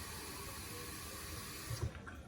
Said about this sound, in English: So we just fill that with hot water.